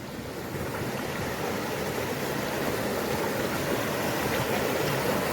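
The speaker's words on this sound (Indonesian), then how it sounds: "sekarang kita nyebrang sungai. Sungai kecil." A small mountain river flows through the forest on Mount Slamet, giving a steady, close rushing wash of water that holds even and slightly rises throughout, with no talk over it.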